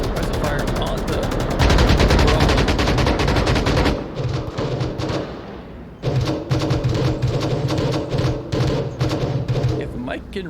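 Rapid automatic gunfire from a competitive match in the VR shooter Onward comes in dense bursts of shots and thuds. Volleys are heard close and loud, with a short lull partway through before the firing resumes.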